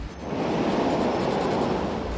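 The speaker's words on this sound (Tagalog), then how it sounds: "Malakas na kasi ang hangin at naglalakihan na rin ang alon." Steady roaring wash of surf blended with gusting wind buffeting the microphone during Typhoon Kristine in the Philippines, a dense continuous rumble with no voices.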